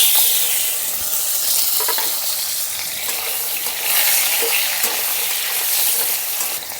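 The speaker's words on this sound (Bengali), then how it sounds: "শুকনো লঙ্কা আর একটু জিরে, শুকনো লঙ্কা, তেজপাতা একটু ভেজে নিয়েছি। এখন দিয়ে দিচ্ছি কেটে রাখা আলুগুলো।" Cut potatoes go into hot oil already frying dried chili, cumin and bay leaf, raising a loud, steady sizzle with occasional stirring scrapes throughout.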